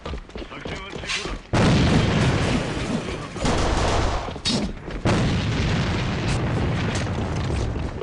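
Loud, booming grenade blasts and rumbling battle noise in the online shooter AVA, with a sudden heavy burst and sustained roaring explosions, while a voice calls out over the action.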